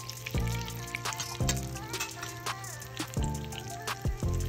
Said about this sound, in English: Making sure the oil is hot, and then just place the fish skin side up.